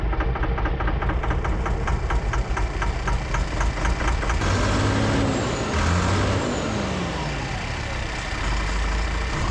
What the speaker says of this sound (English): Don't pay any attention to that engine knock.